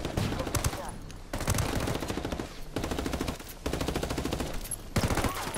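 Sustained automatic rifle fire in the tactical shooter Ghost Recon Wildlands, long rattling bursts separated by brief pauses, loud and close, with faint voices underneath.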